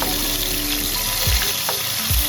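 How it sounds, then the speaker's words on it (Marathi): Prawns frying in oil in a kadhai, a loud continuous crackling sizzle close up, with a couple of brief spatula scrapes breaking through, no talk. "आपल्याला कोळंबी छान अशी फ्राय करून घ्यायची आहे।"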